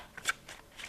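Tarot cards being shuffled by hand: a few quick papery riffles and flutters, close and fairly soft, in short bursts with brief pauses between.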